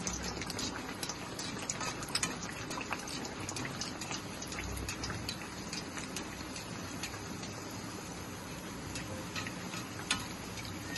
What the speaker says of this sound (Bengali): ভেজে নেব নানপুরিগুলা